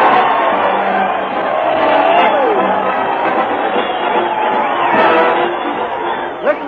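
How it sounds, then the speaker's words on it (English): A studio audience cheers on an old Fred Allen Show radio broadcast at Town Hall, a thin, band-limited roar of shouting and whooping voices that stays loud and continuous throughout. "Listen to that crowd cheer Fred Allen"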